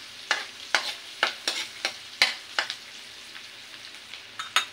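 Garlic going into a hot pan for buttered shrimp and crab, with a soft sizzle under a run of sharp, regular spatula scrapes and stirring clicks, close up and without talk.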